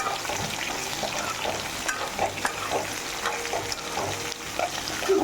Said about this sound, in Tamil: நான் வாழைக்காயும் முருங்கைக்காயும் போடுறேன் இதை போட்டு நல்லா வதக்கிக்கலாம்